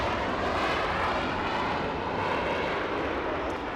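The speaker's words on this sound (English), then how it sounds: "Alaska 810 flying downwind coming in from Honolulu. That's an A330 in the Hawaiian Airlines livery." A Hawaiian Airlines Airbus A330 flies downwind toward a landing at Los Angeles, its engines a loud, steady roar that fills the whole stretch without a break.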